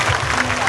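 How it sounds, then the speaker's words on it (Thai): Crowd clapping at an outdoor agricultural fair stage show, a steady dense patter of applause filling the short moment with no break. "ขอเสียงปรบมือดังๆให้คุณแม่บานเย็นรากแก่นครับ"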